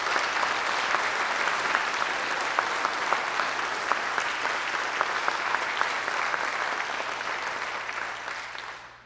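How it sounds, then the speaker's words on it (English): Sustained audience applause at a Birmingham Concert Band event, dense and steady with a few sharper claps standing out, fading out toward the end. "So please give Bradley a round of applause."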